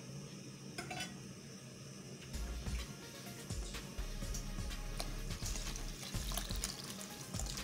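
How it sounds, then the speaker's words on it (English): Water is added to a pot of Nigerian white soup, with quiet pouring and stirring sounds and faint clinks of a utensil against the pot in the background. "the water is not enough I'm going to add more water"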